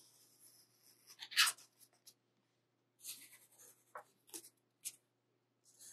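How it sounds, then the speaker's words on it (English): A pen or marker draws a line across a paper strip: a few short, close scratchy strokes separated by quiet pauses. "I'm just going to take it and I'm going to draw a line"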